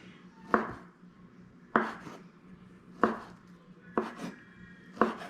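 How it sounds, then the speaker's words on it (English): A knife slices through Chinese sausage on a cutting board for fried rice with eggs and bacon: five crisp, evenly spaced chops, close and clear, with no talking. "I like to cut sausage just like this"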